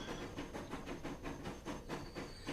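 Train in the video game Transport Fever slowing as it pulls into a station, a soft steady rumble with faint rhythmic clatter and hiss, fairly quiet and heard alone.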